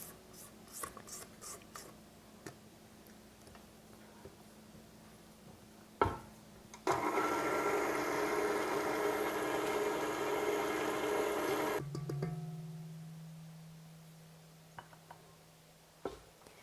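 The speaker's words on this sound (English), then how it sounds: "I've got the dough hook attachment on my mixer, and we're just going to mix that up until it's combined" A stand mixer with a dough hook churns dough in a bowl, a loud steady motor whir running for about five seconds between quieter scraping and handling sounds, then winding down into a low hum.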